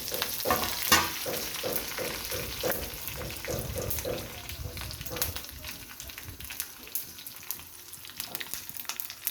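Mustard seeds, cumin, dried red chillies and curry leaves sizzle and crackle in hot oil, with a dense spitting fry that thins out later, while a voice talks over the cooking.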